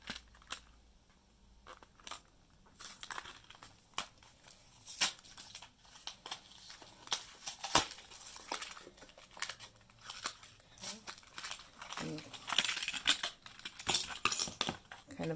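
A paper sewing pattern is torn up and crumpled by hand, giving irregular close rips and crinkles in short bursts, with a louder run of tearing near the end.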